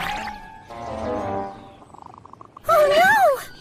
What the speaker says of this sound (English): A cat sneaked up on Bird.